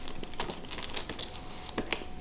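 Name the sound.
unwrapping packaging of a new graphics card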